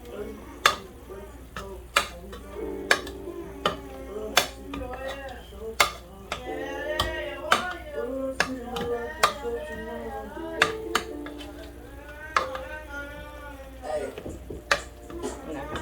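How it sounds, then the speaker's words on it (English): Potatoes being mashed in a pot, repeated sharp knocks and scrapes of the masher against the pot at a steady irregular rhythm, close up, with a voice talking over much of it. "So, the mashed potatoes, it is time to mash them"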